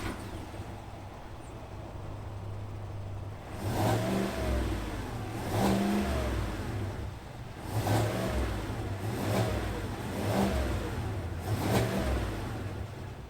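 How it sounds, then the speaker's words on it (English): A 2021 GMC Yukon Denali with its 6.2-liter engine fires up, then revs in four or five repeated throttle blips over a low idle rumble, heard from nearby with no talking. "why don't we fire this up and hear what this Yukon sounds like"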